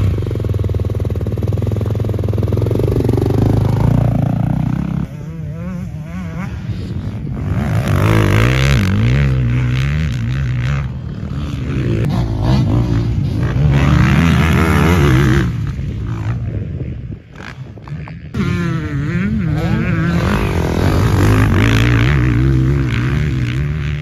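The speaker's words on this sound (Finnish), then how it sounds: "Betan 456 RX motocross-pyörä." A Beta 450 RX 2024 motocross motorcycle is ridden hard, its engine loud and close throughout, rising and falling as the throttle opens and closes, with a brief dip in the middle before it roars back up.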